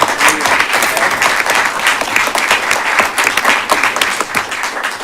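Applause for a commissioner fills a city commission meeting room, a dense, steady patter of many hands clapping at close to moderate distance for several seconds.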